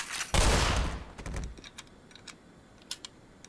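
Gunfire in the Black Mesa video game: a loud rapid burst of shots at the start, fading into scattered lighter clicks and pops over a quiet background, with no talking.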